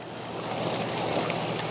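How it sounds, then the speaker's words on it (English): Ocean waves wash steadily onto a shoreline, a constant broadband surf roar with wind, holding an even level throughout and ending with one brief sharp splash or knock. "the waves are coming in."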